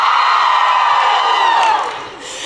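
A massive crowd cheering at a Calgary Expo panel, loud whoops and a wash of voices rising together and then tapering off toward the end.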